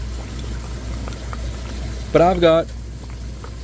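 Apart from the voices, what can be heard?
bubbling water in a killifish aquarium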